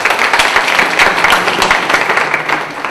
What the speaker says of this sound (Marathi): यांच्यासाठी जोरदार टाळ्या वाजत राहतो